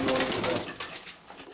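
Pigeons at a dove breeder's loft coo in soft, close calls over the first second, trailing off into quieter rustling.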